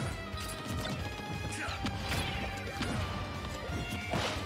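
A dash attack lands in Super Smash Bros. during a competitive match, giving a loud smashing crash with sharp whooshing hits layered over a busy, continuous game soundtrack.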